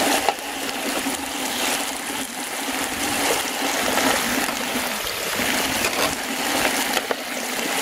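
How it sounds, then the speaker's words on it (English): Water runs steadily down a gold sluice, washing sand and black sand over the riffles and through a grate into a smaller mini sluice, a continuous close rushing trickle with no talk. "So that washes down there through here, drops down this grate, and then there's another sluice down here, a little mini sluice."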